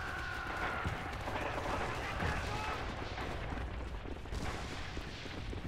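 Artillery fire in a multiplayer video game rumbles as a quiet, steady barrage of dull booms and crackling shots, heard faintly and continuously beneath game sounds and distant speech.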